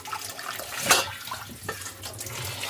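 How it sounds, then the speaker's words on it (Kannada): Water splashes and pours in short bursts over curry leaves and mint being washed, a loud gush near the start and smaller splashes after, close by. "ಇದನ್ನ ನೀರು ಚೆಲ್ಲಿಗತ್ತೀನಿ ನಾನು"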